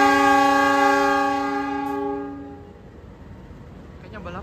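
A KA Blambangan Ekspres passenger train sounds a long, steady horn blast while departing an Indonesian station, then the horn fades into a low rolling rumble. A voice comes in briefly near the end.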